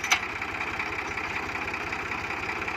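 Steady idle of a Fiat 480 tractor engine rated 40 HP, a low rhythmic chugging with a mid-range hum, heard close and continuous, a brief click near the start.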